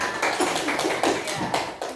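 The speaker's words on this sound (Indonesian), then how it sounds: "Tepuk tangan semuanya." A class of students clapping together in an Indonesian classroom lesson, a steady run of rhythmic bursts close by, with some voices mixed in.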